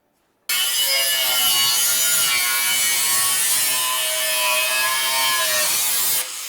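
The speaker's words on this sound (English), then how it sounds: "Let me get my cutter." A cutter slicing through the sheet-metal bed side of a 1965 Chevrolet C10 pickup, a steady, loud, close rasping grind that runs unbroken for about six seconds and then stops, with no talk.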